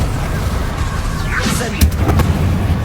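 Magical blasts from Confringo and Bombarda spells in the game Hogwarts Legacy: a rising whoosh followed by a loud boom and several sharp bursts near the end, over a dense, rumbling battle backdrop.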